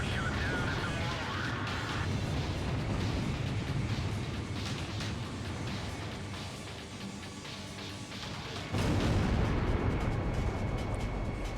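An ally's artillery volley in the combat flight game Ace Combat Zero: a sustained, rolling rumble of blasts that swells into a louder burst near the end, mixed with game sounds and radio chatter.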